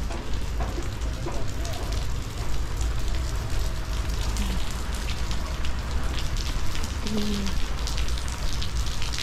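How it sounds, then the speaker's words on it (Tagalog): Heavy rain drums steadily on nearby surfaces throughout in Finland, a constant dense patter with a few faint tonal sounds in the background. "Grabe ang ulan."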